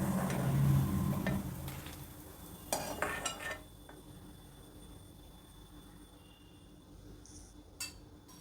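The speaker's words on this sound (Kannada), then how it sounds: "ಈಗ ಬೆಳ್ಳುಳ್ಳಿನೂ ಫ್ರೈ ಆಗಿದೆ ಇದನ್ನು ತಗೊಳ್ತೀನಿ" Fried garlic scooped out of a pan with a spoon for a curry leaf chutney, giving a few scrapes and metallic clinks against the pan over a soft sizzle that fades to quiet.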